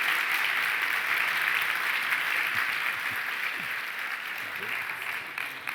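Audience giving a big round of applause at the close of a live talk show event, sustained, full clapping from a crowd that slowly thins toward the end, with faint voices underneath.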